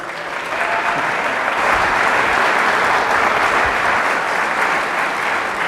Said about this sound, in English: Please give a round of applause for Joseph P. Farrell.